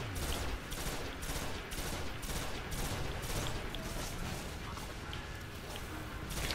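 Rapid, continuous automatic gunfire from the video game Destiny rattles on for several seconds in dense, repeated bursts at fairly close range, with no talking over it.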